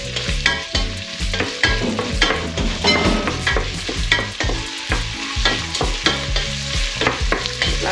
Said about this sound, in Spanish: Añadimos las cabezas de las gambas.